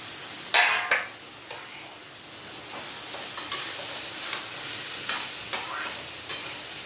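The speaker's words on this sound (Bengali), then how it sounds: "এবারে যে মিষ্টি কুমড়ো আলুটা ভেজে রেখেছি সেটা দিয়ে দিচ্ছি।" Fried sweet pumpkin and potato go into a pan of cooked spices for a Bengali chhokka, giving a soft sizzle with several sharp utensil clinks and scrapes spaced through the stretch.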